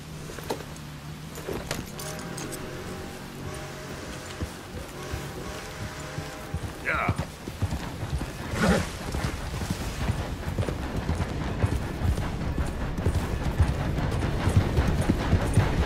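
A horse's hooves clip-clop in a steady rhythm in the video game Red Dead Redemption 2, growing busier and louder toward the end among rustling ambience.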